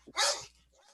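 A single sharp dog bark, loud and close, rising and cutting off within a second over a quiet low hum.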